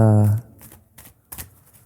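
Oracle cards are shuffled in a few soft, brief riffles and taps right after a voice stops, close and quiet, with a gap between the bursts.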